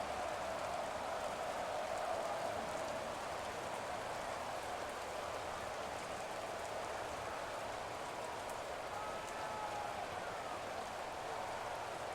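Steady rain pours down throughout a rainy Madden NFL 23 football game between the Saints and Seahawks, an even broadband hiss of drops with no breaks, heard alone without talk.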